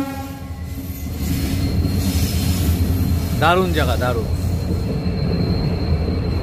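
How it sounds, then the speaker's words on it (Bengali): A train rumbles past a forest picnic spot, a steady loud roar with a brief squeal of wheels partway through, while a person talks briefly over it. "এই এদিকে ট্রেন যাচ্ছে।"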